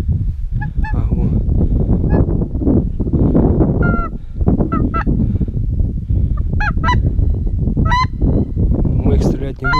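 Several swans call with loud, honking trumpet-like notes, repeated irregularly over a noisy outdoor autumn background during duck hunting, some calls overlapping.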